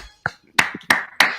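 A sports commentator claps his hands a few times, four sharp and fairly close claps in an uneven rhythm with quiet gaps between them.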